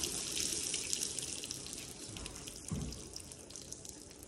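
Liquid drains from a car battery in a steady, faint trickle and splash like running water, with a brief louder gurgle partway through and no talking.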